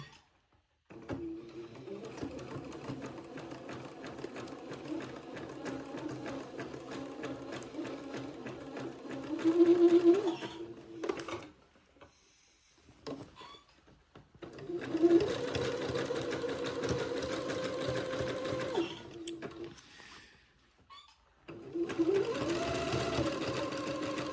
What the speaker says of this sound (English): I'm going to set my machine to a zigzag and finish this seam off